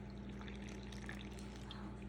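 Water poured into a sourdough starter being fed on a kitchen scale, a soft continuous trickle with a low hum underneath, brief and quiet with no talk.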